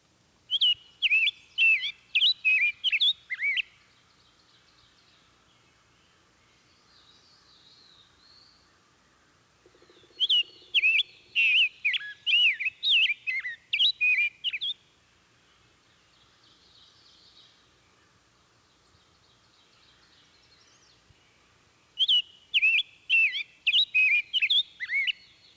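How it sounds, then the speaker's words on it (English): Rose-breasted grosbeak song, three bursts of rich, rapid warbled phrases like a sweeter robin, clear and fairly close, separated by quiet pauses with faint background bird calls. "rose-breasted grosbeak sounds like a robin that's taken voice lessons"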